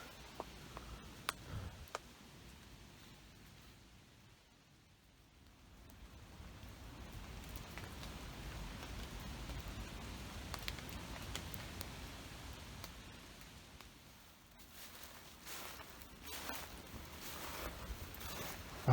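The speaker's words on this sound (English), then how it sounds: "I hope that this is not the only rain that we get during my vacation." Rain falling on a mountainside, a steady soft patter with scattered ticks and drops, fairly faint and continuous throughout.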